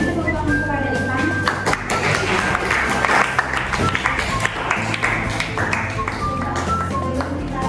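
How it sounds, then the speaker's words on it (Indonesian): A classroom group applauds a student named Ivan, steady loud clapping from many hands with scattered taps and crowd noise throughout. "Beri tepuk tangan kepada Ivan"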